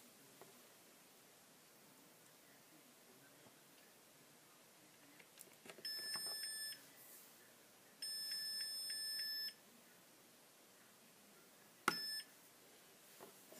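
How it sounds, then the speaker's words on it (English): A small electronic device beeps while it powers up, giving a few long, steady tones with short gaps between them and then a brief final chirp, all faint against a quiet background hiss. "power it up, let it go through the number of long beeps"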